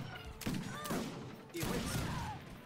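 Musket fire erupts in two bursts of crackling volleys during an Age of Empires 3 battle, under the game's steady background wash and faint tonal effects.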